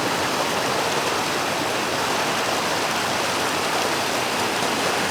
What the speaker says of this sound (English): Tiny little waterfall there.